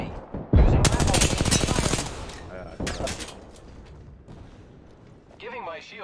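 Automatic gunfire in the shooter game Apex Legends rattles in long rapid bursts at close range, followed by scattered single shots and quieter effects, with a voice talking underneath.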